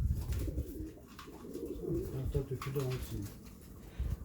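Pigeons cooing close by in a Turkish pigeon keeper's loft, a run of soft, throaty coos repeating through the clip while people talk over them.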